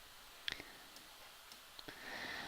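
A few faint, sharp mouse clicks are spaced apart against quiet room noise.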